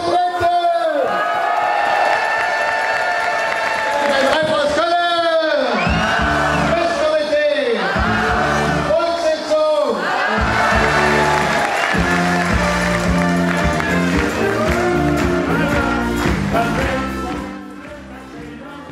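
A packed tent at a Cologne carnival society's installation of its new president erupts in loud, sustained cheering and applause, with band music and shouting voices running underneath throughout, fading slightly at the end.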